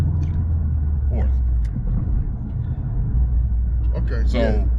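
Car engine accelerating and shifting from third to fourth gear heard from inside the cabin, a steady loud low rumble with a short dip at the shift, while people talk over it.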